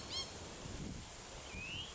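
A gang-gang cockatoo calling in Wattle Park, Melbourne, gives a short raspy creak near the start and a longer rising squeaky note later, both fairly faint over a steady outdoor hiss.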